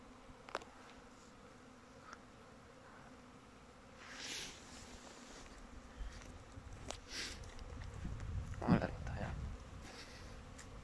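Occasional honeybees buzz past close by in brief, rising and fading hums during a warm winter cleansing flight on January 1, with a louder pass near the end over a quiet outdoor background.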